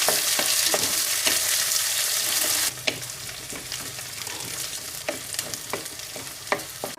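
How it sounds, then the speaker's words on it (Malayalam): Ginger, garlic and green chilies sizzle in hot oil in a pan for cherry pickle, with a steady bright hiss and repeated scraping taps of a spoon stirring, close and without talking. "ഇനി നമുക്കിതൊന്ന് ഇളക്കി കൊടുക്കാം"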